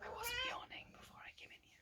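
A pet cat gives a bright, drawn-out meow close by at the start of a quiet indoor whispered session, followed by soft whispering speech.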